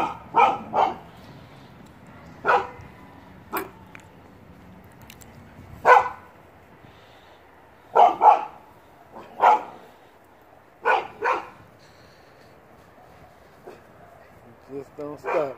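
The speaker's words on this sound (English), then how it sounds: "What's up with all that barking?" A dog barks in scattered single and double yips, close by, with brief pauses between bursts.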